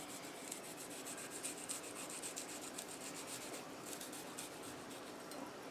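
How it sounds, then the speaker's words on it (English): An apple being cored and peeled, a steady close scraping and rasping with faint rhythmic strokes, quiet and continuous with no voices. "we're going to end up coring this. And at the same time, we're going to be peeling it."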